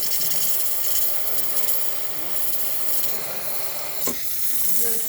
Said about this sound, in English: the last thing we're going to test is the steam function